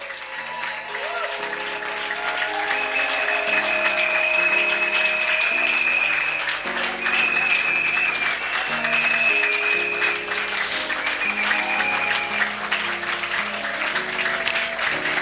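A church congregation applauds in a steady, sustained wash of clapping over music, with a voice speaking through it.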